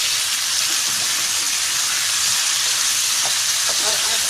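Taro root (arbi) frying in a pan for an arbi palak keema dish, giving a steady, close sizzling hiss that runs unbroken throughout with no talking.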